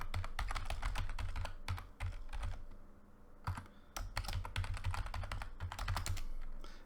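Rapid clicking keystrokes on a computer keyboard, close and clear, coming in quick bursts with a short pause midway.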